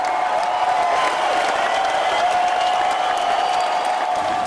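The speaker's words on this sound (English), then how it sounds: "once again the crowd goes wild" A large crowd cheers and applauds in a continuous, steady roar as a dam's gates lift and water begins to flow, with no single voice standing out.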